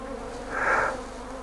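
Honeybees hum in an opened swarm hive packed with brood in November, a close, steady buzz that swells briefly and fades within a second and a half.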